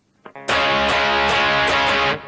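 Distorted electric guitar strums power chords in a steady driving rhythm, loud and close, played alone with no voices.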